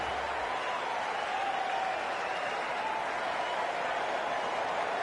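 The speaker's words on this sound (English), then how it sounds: "they'll receive a warm reception from the crowd" Cricket crowd applauding a departing batsman at the end of his innings, a steady broadband wash of clapping and crowd noise lasting throughout, moderately loud and continuous.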